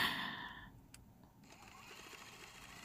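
Sewing machine stitching a seam on a fabric pin cushion project, a faint rapid mechanical whirring with a short pause mid-way, quiet and close with no talk.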